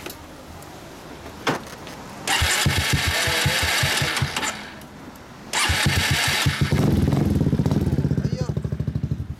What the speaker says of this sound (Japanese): ごめん、エンジン音聞かせてもらえるかな。